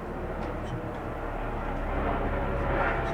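An airplane flies overhead during an outdoor graduation celebration, a steady broad rumble that grows slightly louder and fills the scene, with faint voices underneath.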